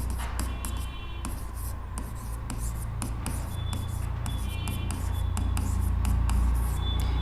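Chalk or marker scratches across a board during a class 12 physics lecture on electric charges and fields, producing a string of quick close strokes over steady room hum.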